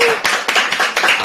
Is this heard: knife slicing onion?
no